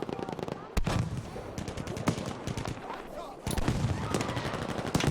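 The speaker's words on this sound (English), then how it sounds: "they are getting shelled by Skimps and making it tough for them to stay alive" Battlefield 5 gunfire and shelling, rapid machine-gun bursts and booming explosions in dense, loud succession, with faint voices underneath.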